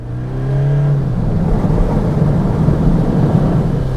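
Toyota Innova Crysta with its 2.8-litre engine revs up and pulls away, a loud, steady, rising drone close by with no talk over it.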